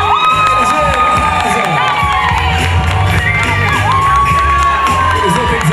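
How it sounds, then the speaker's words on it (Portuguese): Audience at an APAE charity fashion dance show cheers loudly, with whoops and children's shouts over a steady dense crowd roar that holds throughout. "Com mais aplausos, vem aí Eliseu Barbosa Prado."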